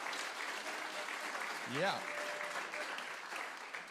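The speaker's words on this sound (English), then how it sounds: "let's give a big round of applause for the volunteer WoodSongs crew" An audience at a WoodSongs concert in the Scottish Rite Concert Hall claps steadily for the volunteer crew, a broad continuous wash of applause with a brief voice calling out partway through.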